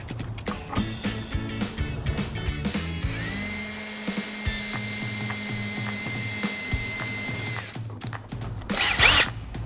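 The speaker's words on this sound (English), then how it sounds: "We're just going to put a couple of small holes in the bottom of the fascia." A power drill bores a couple of small holes in the plastic bottom fascia of a 2016 Ford Escape, with a whirring motor that changes pitch and runs a few seconds at close range, with some clicks and handling noise around it.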